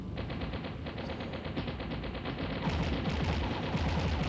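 Rapid, continuous Uzi submachine gun fire in a video game, loud bursts rattling steadily throughout with a dense crackle and no pauses, growing slightly heavier toward the end.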